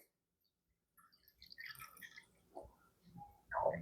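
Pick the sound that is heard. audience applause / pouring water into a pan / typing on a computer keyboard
pouring water into a pan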